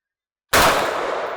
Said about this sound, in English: You can see the splatter from the shot.